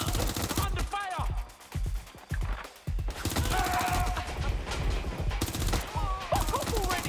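Rapid bursts of gunfire in the video game Watch Dogs: Legion, loud and close, with sustained automatic volleys broken by brief pauses, over game music and some voice.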